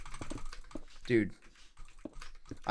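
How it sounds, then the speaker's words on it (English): Rapid clicking from a computer mouse button being hit in quick butterfly style, close and crisp, with a louder burst in the middle and a person talking over it. "I kind of like the way butterfly clicking sounds on this mouse."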